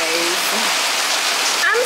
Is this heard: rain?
yes